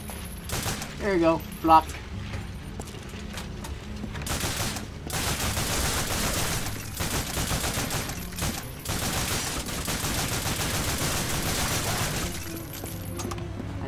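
Rapid gunfire from the World War II shooter Call of Duty: Finest Hour, Eastern Front mission Operation Little Saturn: dense, sustained bursts of machine-gun fire and explosions filling most of the stretch, with someone talking briefly near the start.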